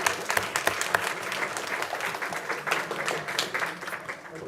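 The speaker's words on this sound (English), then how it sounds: "let's give another round of applause for our first responders" An audience at a city council meeting applauds first responders as they move out, a loud, steady wash of many hands clapping close by with no voices over it.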